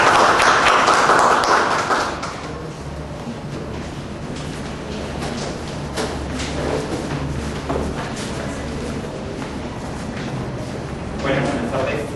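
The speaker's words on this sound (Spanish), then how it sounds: "Por favor, un fuerte aplauso para el doctor." A burst of applause from an audience for about two seconds, then fading into a quieter murmur with scattered claps and shuffling.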